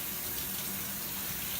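Hot water running steadily from a kitchen tap, a continuous close gushing rush with no pauses, heard alone.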